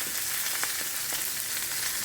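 Steady crackling sizzle of steak fat rendering in a hot pan, the steak standing on its side, a dense hiss with scattered pops, continuous and close throughout.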